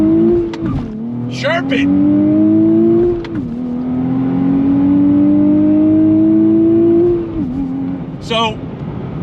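A 2023 Nissan Z Performance sports car accelerates hard on throttle, its engine note climbing steadily through long pulls with brief dips at the gear changes, loud and close, while occupants shout and talk over it.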